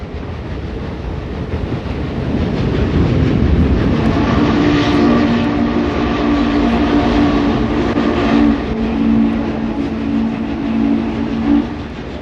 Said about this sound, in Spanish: Era el ruido del tren.